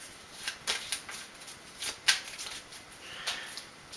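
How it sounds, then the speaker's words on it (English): A deck of board-game cards is shuffled close by, soft papery riffles and flicks repeating in short bursts, quiet and without voices. "Give them a good shuffle."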